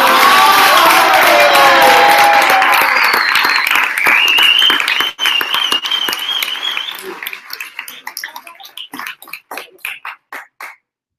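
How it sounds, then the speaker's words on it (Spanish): Audience applause with a few cheers and whoops at a Madrid web development bootcamp project showcase, loud and dense at first, then thinning into scattered claps that fade out. "Vamos a darle por lo menos un aplauso."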